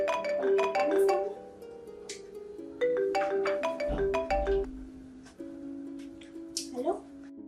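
A mobile phone plays a melodic ringtone in a home during a Gujarati family drama, its repeating tune of bright notes going on for several seconds while people talk over it.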